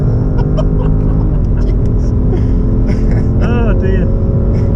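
A BMW M440i xDrive pushed at full throttle on a track, with a loud, continuous engine drone under the cabin noise and rising, sweeping tones as revs climb, while someone talks over it.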